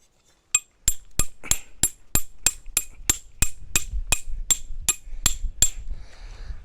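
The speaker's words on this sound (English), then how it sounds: "Hammer that in and then tension this up." Sharp metallic hammer strikes drive a tent stake in a steady series of about fifteen blows, close and loud, with faint rustling between them.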